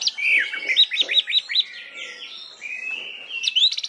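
A young orange-headed thrush sings a rapid series of bright, close chirps and whistled notes, briefly pausing into a sustained thin whistle before a quick burst of trilling calls at the end.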